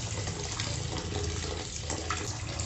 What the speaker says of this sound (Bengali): এবার আমি ঢেলে নেব এটা, ভালো করে জল দিয়ে ধুয়ে নেব এটাকে